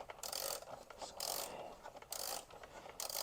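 Ratchet wrench tightening bolts on the 12V battery of a Ford Mach-E, bursts of fast metallic clicking strokes repeated in rhythmic pulls with short pauses between, close and fairly loud with no talk.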